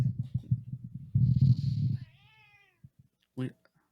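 A cat meows a few times, a drawn-out wavering cry in the middle, over nearby thumping and rustling, with a short louder burst near the end.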